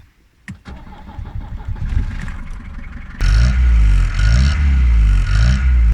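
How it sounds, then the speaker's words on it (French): An old Mercedes 220D W115 diesel engine cranks with a few clicks and a whirring starter, then catches and settles into a loud, lumpy idle with slight revving. "Même le démarrage de cette voiture se fait à l'ancienne, vieux diesel oblige"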